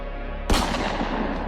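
One sharp gunshot bursts out, loud and close, then trails into a rumbling decay over a low hum.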